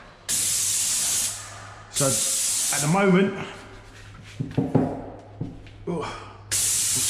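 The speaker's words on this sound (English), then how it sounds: "spray this way because it's really tight" A paint sprayer coating a staircase hisses in steady bursts, starting and stopping several times, with someone talking briefly between sprays and a low hum underneath.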